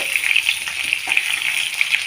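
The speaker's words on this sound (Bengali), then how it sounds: "দেখুন বন্ধুরা আলুটা যদি ঠিকঠাকভাবে ভাজা হয়ে যায় সেই দিকটাই খেয়াল রাখতে হবে" Potato pieces fry with a pinch of panch phoron spices in a pan, giving a steady close sizzle with crackling pops throughout and no talk.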